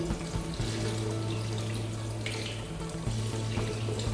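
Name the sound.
rinsing impression under running tap water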